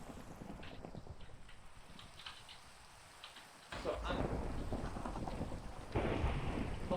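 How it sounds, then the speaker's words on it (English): Rumbling thunder from lightning strikes in Minecraft, faint at first, then a louder rolling crash midway and another swell near the end, with a voice briefly speaking. "So basically the lightning's hitting everywhere but the lightning bolt."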